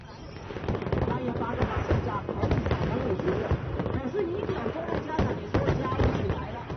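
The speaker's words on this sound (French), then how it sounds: "appréciez les feux d'artifice car ils marquent la fin des festivités" Fireworks marking the end of festivities on Hainan Island, China pop and crackle in a dense, continuous barrage, with distant bangs and voices of a crowd mixed throughout.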